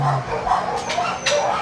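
A beagle, one of a little male and female pair, makes soft whimpers and short yips close by, mixed with brief bursts of rustling and movement over a busy background.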